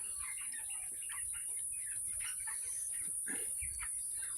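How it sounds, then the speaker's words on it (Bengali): Chickens on a small poultry farm shed of about 800 birds give scattered clucks and chirps over a steady high insect-like hum, moderately distant and without talk. "আমি মুরগি উঠাই 800 পিস।"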